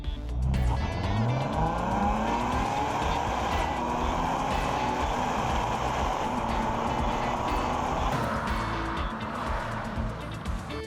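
A 2014 Nissan Skyline 350GT Hybrid under full throttle, its engine note rising steadily in pitch as it pulls hard, loud and close with a brief shift-like change near the end and no talk.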